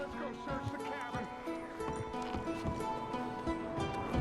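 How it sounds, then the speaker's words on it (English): Horses trotting in Red Dead Redemption 2, steady rhythmic hoof clops near a cabin, with faint background ambience and tack sounds. "Micah, go bring the horses closer to the house."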